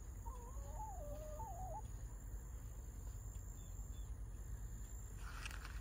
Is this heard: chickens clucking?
yes